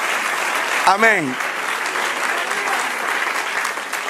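A church congregation applauding during a sermon, steady dense clapping throughout while a single voice calls out briefly over the crowd near the start.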